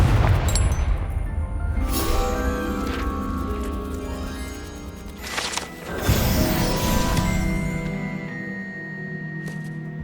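Confringo blasting spells in Hogwarts Legacy crash and boom over a game score, with a sharp burst near the middle followed by rumbling impact and debris, loud and close.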